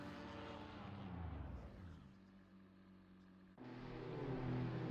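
BMW M2 race cars in a racing video game heading out on track at Suzuka, engines droning and rising in pitch, then a sudden louder roar as another car passes close.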